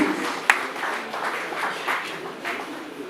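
An audience applauds the state governor at a gathering of retired heads of service and permanent secretaries in Ondo State, with steady crowd clapping that fills the whole moment at moderate volume after one sharp opening clap.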